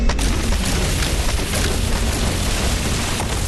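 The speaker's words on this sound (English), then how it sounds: "Oh my goodness! Giant shotgun!" Loud, continuous booming blast from a giant shotgun in the VR game Animal Company, a sustained roar that fills the whole moment with no pauses.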